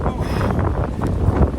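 Strong gusting wind buffeting the microphone near a cold, rainy mountain top, a loud continuous rumble with rising and falling gusts.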